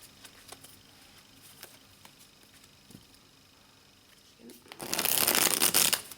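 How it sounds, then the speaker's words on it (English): A Modern Spellcasters tarot deck with crisp cardstock is riffle shuffled, giving a brief, loud, close burst of fluttering card edges after a few soft handling taps. "And let's do a little riffle."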